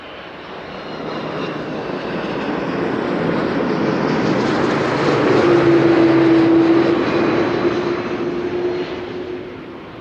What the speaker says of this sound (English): Sounded a bit different from the other A330s till now.